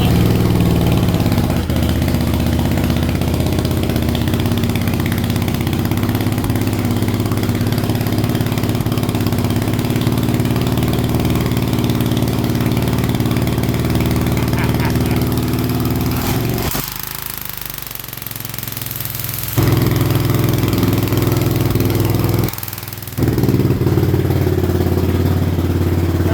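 A 2007 Suzuki S40 motorcycle engine, single-cylinder with a gunked carburetor, idles loudly and close with a steady, rough chugging drone; the sound dips and changes briefly near the end before resuming, with no talking over it.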